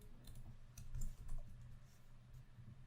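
Code being typed on a computer keyboard while writing game scripts, with scattered soft key clicks over a steady low hum, fairly quiet and close.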